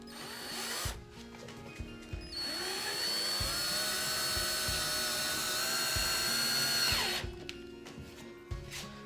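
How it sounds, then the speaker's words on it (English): A power drill whirs up and runs steadily for about five seconds, its pitch slowly sinking under load before it stops, with clicks and knocks around it. "just use your drill to put it in"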